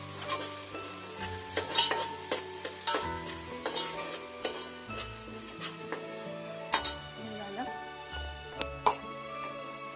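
Vegetables for hotel-style Hakka noodles go into a hot pan and are stir-fried, giving a steady close sizzle with repeated spatula scrapes and metallic knocks against the pan, while a voice and faint tonal background sit underneath.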